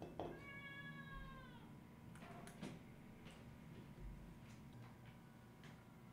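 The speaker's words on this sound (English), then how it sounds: "This is a huge cat." A large cat meows indoors, one drawn-out cry near the start followed by faint ticks and light knocks in a quiet room, with no other voices.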